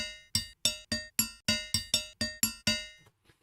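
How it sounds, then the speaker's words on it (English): A dozen bright metallic clangs of a hammer striking an anvil, evenly spaced and ringing, each with a sharp attack and short decaying ring, close and loud. "So this was a sound of somebody hitting an anvil with a hammer."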